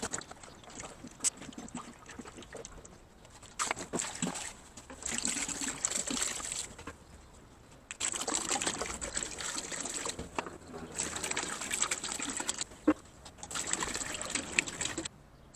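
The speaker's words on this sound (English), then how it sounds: "Now I'm going to just add in a whole bunch of white vinegar" White vinegar poured in a steady trickle into a container holding a Prentiss vise, the liquid splashing in several long bursts with brief pauses between, close and moderately loud, no talking.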